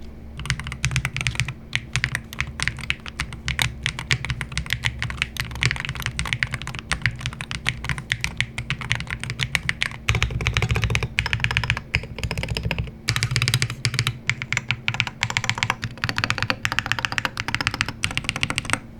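Close, continuous clacking of a WLMOUSE HUAN63 HE magnesium alloy mechanical keyboard being typed in quick, uneven bursts, with a short pause partway through.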